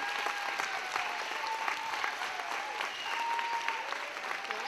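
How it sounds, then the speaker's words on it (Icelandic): An audience at a school birthday sing-along event claps steadily and evenly for several seconds, a dense, continuous patter of many hands with faint voices mixed in. "Gefið þeim ótrúlega flott klapp."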